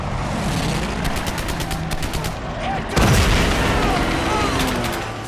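Dense gunfire from the World War II shooter game Medal of Honor: Pacific Assault at Pearl Harbor, with loud rapid machine-gun bursts and heavy booms layered over a thick battle roar, close and continuous.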